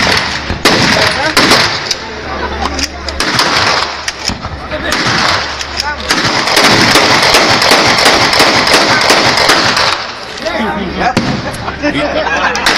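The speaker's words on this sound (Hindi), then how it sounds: "शादी समारोह में कैसे गोली चल रही है" Gunfire rings out at a wedding celebration, with loud, rapid cracks and bursts of shots repeating over several seconds amid crowd noise and voices.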